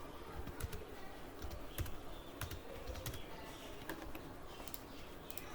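Entries are typed into billing software on a computer keyboard, with irregular quick clusters of light key clicks over a soft room hum; a pigeon coos faintly in the background and nobody speaks.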